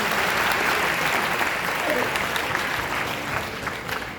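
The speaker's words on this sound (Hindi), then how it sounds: "ये जोरदार इनके नाम पे ही ताली बजाना पड़ेगा।" Audience at an entrepreneurship conference at Siksha 'O' Anusandhan in Bhubaneswar breaks into loud, sustained applause, a dense continuous clatter of many hands that eases slightly toward the end.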